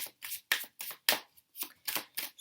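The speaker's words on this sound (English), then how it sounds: "I'm going to shuffle and then I'm going to place 3 cards down." Tarot cards are shuffled close by in a quick series of about eight crisp riffling bursts, each a short papery flutter with brief gaps between.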